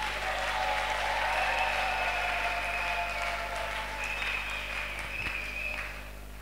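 Congregation in church applauding for the Lord, a broad wash of clapping heard somewhat distantly over a steady low hum and a few faint tonal sounds, fading slightly at the end.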